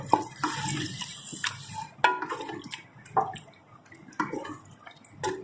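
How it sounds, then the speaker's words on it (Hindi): Water is poured from a container into a pan of keema and tomato masala, giving several short splashing bursts with brief gaps between them, close by and with no talking. "डाल दिया थोड़ा सा पानी"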